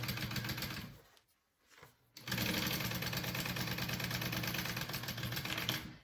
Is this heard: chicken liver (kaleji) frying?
no